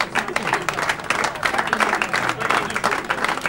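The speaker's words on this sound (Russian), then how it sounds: "Аплодисменты!" Studio audience applause on an Azerbaijani "What? Where? When?" TV quiz show, a steady dense patter of many hands clapping at moderate loudness throughout, with no talk over it.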